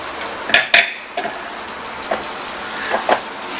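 Ground coconut, green chili and cumin paste is stirred into aviyal in a pan, with a soft background sizzle under several clinking and scraping spoon strokes against the metal.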